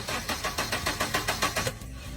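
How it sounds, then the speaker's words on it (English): A car engine being cranked in a no-start check on a car with an oil leak, giving a rapid rhythmic chugging of about a dozen even pulses that stops abruptly, loud and close. "Help me start the car."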